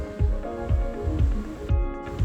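Chicken akhni biryani ingredients, including sliced lemon and green chillies, being stirred together in a pot, giving soft repeated squishing strokes in a steady rhythm of about five, close and moderately loud with no talking.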